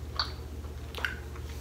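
Someone chews sour foreign candy gum, soft, faint wet squishing and smacking close to the mic, with a low steady hum behind it and no talking.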